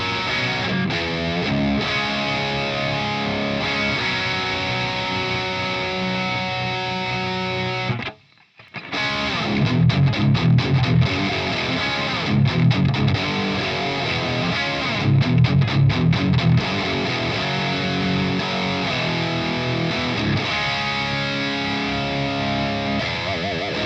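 Distorted electric guitar plays through a Friedman BE Deluxe module in a Synergy SYN-20IR amp into a 4x12 cab, sustained chords and then chugging palm-muted riffs, loud and close after a brief pause.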